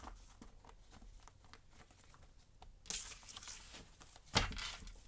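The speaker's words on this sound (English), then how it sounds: "Final shuffle." Soft, quiet card shuffling with faint papery patter, growing into a louder riffle near the end with one sharp snap.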